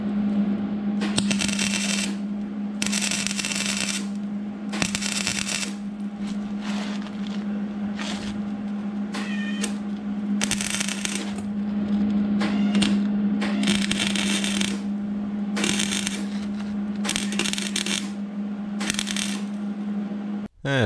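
MIG-style welding on the rocker panel of a Mercury Sable station wagon, a steady crackling sizzle in repeated bursts with a constant electrical hum underneath, close and loud.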